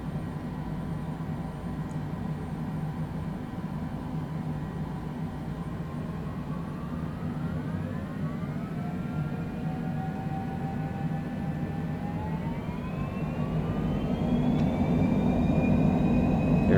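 An airplane climbs out on takeoff from a hot Scottsdale, a steady deep engine drone with a whine rising in pitch and the roar swelling louder near the end, no talk.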